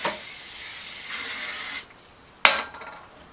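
An aerosol hairspray can hisses in a long continuous spray onto hair, pauses, then gives a second short sharp burst that fades out.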